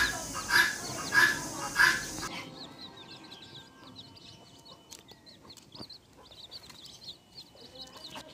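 Six-day-old baby chickens in a brooder peep with rapid, high, repeated chirps. The chirps are louder and denser at first, then continue fainter and scattered in the background.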